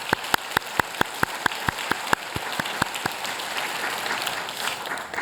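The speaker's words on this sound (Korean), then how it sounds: "우리 준비팀과 이것을 담당하는 모든 우리 부교육자들 열렬한 박수로 응원하기로 합니다" A church congregation claps, starting with a string of sharp, evenly spaced rhythmic claps that quickly swell into dense, continuous applause filling the room.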